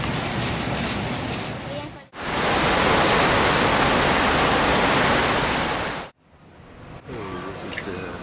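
Fountains in Cerro Santa Lucia Park in Santiago, Chile send out a loud, steady rush of splashing water that drops away abruptly in two places before resuming, with no voices.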